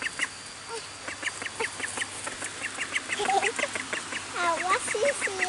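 Several ducks quack close by at a riverside, a dense run of repeated calls that grows louder toward the end, with faint voices in the background.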